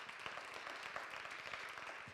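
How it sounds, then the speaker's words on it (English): A sermon audience at Unity of Sacramento claps together in a brief burst of applause, a dense patter of many hands at moderate loudness with no talking over it. "Give her a round of applause"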